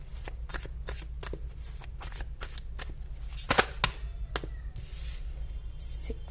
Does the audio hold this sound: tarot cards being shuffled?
yes